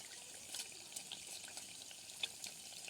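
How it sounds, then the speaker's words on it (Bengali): Pitha cakes deep-fried in oil give a very faint, steady sizzle and fine bubbling, with a few soft clinks and stirring taps scattered through. "পিঠাগুলি ভেজে"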